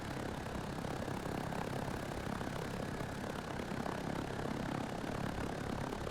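A VTOL aircraft flies in the video game ArmA 3, its engine a constant dense, steady roar of broadband noise with no variation and no talking.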